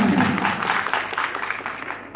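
Audience clapping at a Hindi poetry recital during a festival, steady and fairly loud for a couple of seconds, slowly thinning toward the end, with no voices over it.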